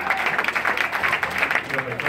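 Brief burst of audience clapping at a stage hypnosis show, a short dense patter lasting a couple of seconds with some voices mixed in.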